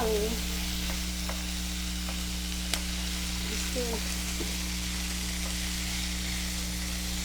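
Vegetables for a shrimp and lobster coconut curry stir-fry in a pan, giving a constant sizzle with occasional utensil clicks over a steady low hum.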